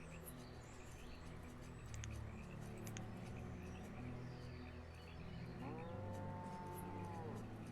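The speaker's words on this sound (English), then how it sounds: "Can't buy any cattle." Cattle moo in the Banished city-building game: a faint bovine lowing rises near the end over a steady ambient bed of farmyard sounds and light bird calls.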